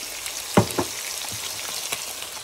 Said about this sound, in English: here we have some stir fry that I'm preparing now. Onions, peppers, sweet peppers and tomatoes.